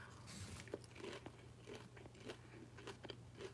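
Close, quiet crunching of someone eating shrimp, repeated crisp bites and chews at an irregular rhythm over a low background hum.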